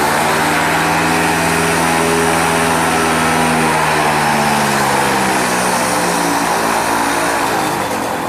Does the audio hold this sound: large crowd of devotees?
no